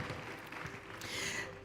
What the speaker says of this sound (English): if I can ask you again for another round of applause to thank that panel